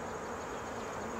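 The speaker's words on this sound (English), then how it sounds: "Here we got a yellow jacket in here trying to steal honey." A yellow jacket buzzes among honey at an open beehive, a steady continuous drone close by with no pauses and no voices.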